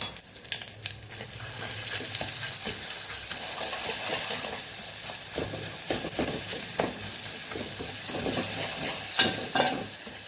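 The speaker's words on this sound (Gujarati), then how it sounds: "અહીં આપણે લસણવાળી ચટણી ઉમેરી દઈશું" Garlic chutney with dried red chillies and curry leaves sizzles in hot oil for a Kathiyawadi meal, a loud continuous crackling hiss broken by scraping stirs throughout, with no voices.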